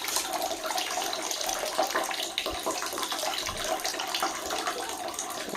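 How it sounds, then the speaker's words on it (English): Water runs and drips steadily while cloth diapers are handwashed in warm water at a sink or tub, a continuous splashing wash with no voices. "The water's dripping."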